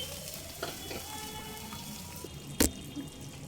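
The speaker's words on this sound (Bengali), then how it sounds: "এই পর্যায়ে এসে গ্রেভির জন্য দেব হালকা গরম জল আন্দাজ মতো জল দিয়ে দেবে" Warm water poured into frying masala for a pomfret rezala gravy, heard as a faint, steady watery sizzle with one sharp clack of a utensil partway through.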